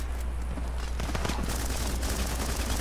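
Machine gun fire rattles through a Running With Rifles battle, a continuous loud stream of rapid shots over a low droning bed, denser in the second half.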